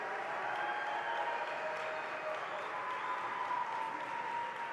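Dense, steady crowd applause fills an arena at a FIRST Robotics Competition district event, continuous and loud for the whole stretch, with faint cheering mixed in.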